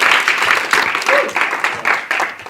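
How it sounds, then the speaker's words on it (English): A short burst of audience applause for Nick, clapping in uneven waves with some voices mixed in, fairly loud and close. "So just give him a round of applause real quick."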